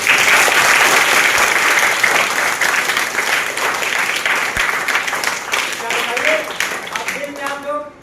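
Schoolchildren at a primary school in Jalalpur, Arjunpur, break into loud, sustained group applause that gradually thins toward the end, with a few voices rising over the clapping as it fades.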